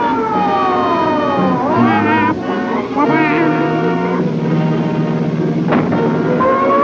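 A police car siren wails, rising and falling loudly nearby, layered with other sliding tones and some speech mixed in.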